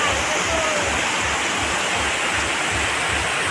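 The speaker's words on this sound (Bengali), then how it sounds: "কত বৃষ্টি হচ্ছে" Heavy rain pours down in a dense, steady roar of hissing water that stays loud and even throughout, with no break or change in intensity.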